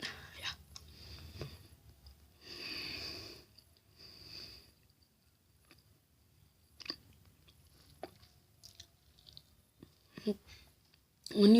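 Someone chews Starburst candy close up, with soft wet squishing and smacking bursts separated by quiet pauses, plus sniffs and small clicks, the mouth sounds fairly faint.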